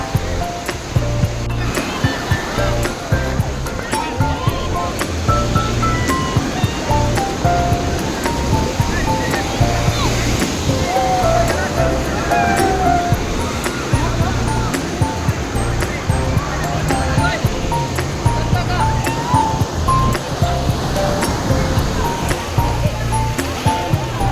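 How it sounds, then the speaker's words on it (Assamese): Ocean waves at Calangute Beach in Goa roar and wash continuously, a dense, unbroken surf close by with faint voices beneath. "ধুনীয়া পানী, ঢৌকেইটা কেনেকুৱা চাফা।"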